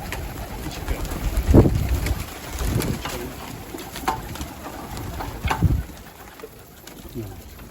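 Pigeons coo softly around a coop amid scattered thumps and rustling, with a person talking intermittently nearby.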